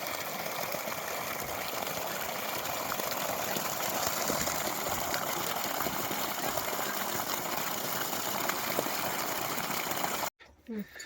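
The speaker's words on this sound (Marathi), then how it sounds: "ओसवार कंपनीची मोटर मित्रांनो पाण्याचा प्रेशर" An Oswal 3 HP solar borewell pump drives a steady, loud, broadband gush of water that holds continuously for about ten seconds before cutting off abruptly.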